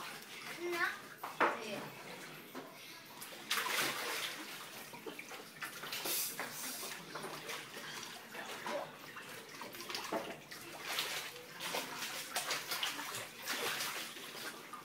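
Children splash and play in water in a small backyard mini pool at home, with repeated close splashes and sloshing, while an adult and kids talk over the noise.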